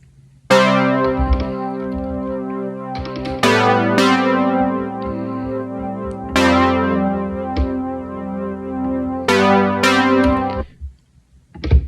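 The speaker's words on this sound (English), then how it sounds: "This is, I think, the first thing he played, and it was on like a Tal Juno." A synth part played on a TAL Juno software synthesizer: four sustained, bright chords, each struck with a sharp attack about every three seconds and left to ring, with no voices.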